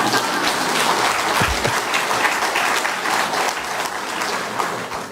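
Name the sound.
congregation applause in church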